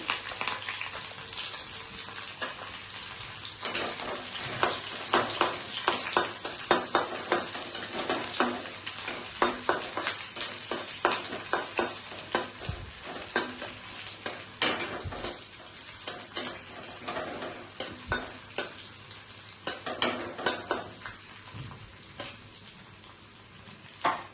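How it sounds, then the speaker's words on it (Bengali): Chopped onions hit a hot pan in a home kitchen while cooking paneer capsicum: steady sizzling frying fills the clip, with repeated scraping and clinking of a spatula stirring against the pan, fairly close and with no talk. "এভাবে পেঁয়াজ কুচিগুলোকে দিয়ে দিচ্ছি।"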